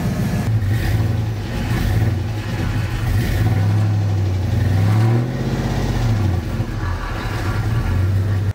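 An LS-swapped car engine fires up and revs loudly and close by, its throaty rumble rising and falling through several throttle blips before settling, with no voices.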